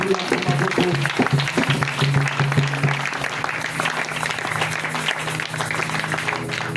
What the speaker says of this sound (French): Est-ce que quelqu'un peut acclamer très fort Jésus?